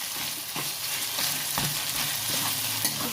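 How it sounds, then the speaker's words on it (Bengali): Boneless chicken frying in a pan for a cabbage chicken dish, a steady hiss of oil broken by regular scraping strokes of a spatula stirring, with no voices. "এটা একটু ভালো করে ফ্রাই করে নিলে ভালো লাগবে।"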